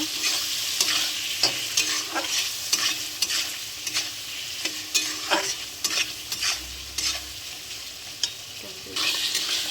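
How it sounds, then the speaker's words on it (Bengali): Cumin powder, turmeric, red chili and salt fry together in a pan, giving a close, steady sizzle punctuated by repeated scraping and clinking strokes of a spatula stirring the spices, with no one talking. "ভালো করে মশলাটা কষিয়ে নেব"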